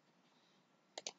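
Two quick mouse clicks on an OK button in a software dialog, crisp and close, sounding alone over a faint quiet room background.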